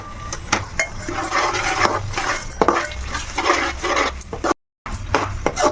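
Spices and masala are stirred as they fry in oil in a pan, with continuous close scraping and rubbing strokes and occasional knocks against the pan, plus one brief dropout.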